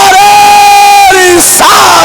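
A large crowd at a Muslim religious gathering in India loudly chants a slogan in unison, one long sustained shout followed by shorter answering calls.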